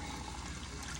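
Water is poured into a cooking pot in a home kitchen, giving a steady, dense splashing rush that stays close and fairly loud for about a second without any voices.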